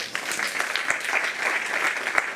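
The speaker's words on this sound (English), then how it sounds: "Applause, please." Audience applause at a quantum technologies research workshop, a steady patter of many hands clapping together, moderately loud and continuous throughout, with no talking over it.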